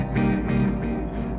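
Simulated mains power hum from a Yonac Zodiak tape delay plugin, a steady low buzzing drone with harmonics that swells slightly in a few pulses, continuous and fairly loud with no talk.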